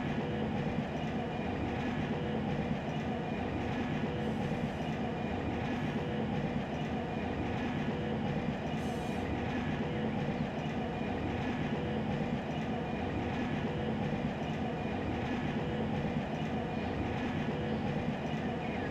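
A train rolling along in Run 8 Train Simulator III, a steady dense rumble with a continuous wheel-on-rail roar and no talk, constant in level throughout.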